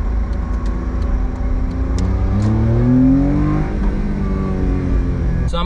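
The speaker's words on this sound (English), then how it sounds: "And it's the Honda Beat." A Honda Beat engine revs up and down steadily at close range, with a rising and falling whine and no voices.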